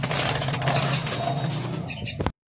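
A white-eared brown dove in a breeder cage gives soft, low cooing calls close by for about two seconds before the sound cuts off abruptly.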